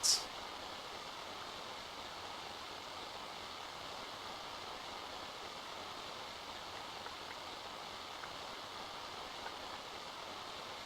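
Steady hissing TV static in a video game, an even wash of noise that holds unchanged after a brief sharp click at the start.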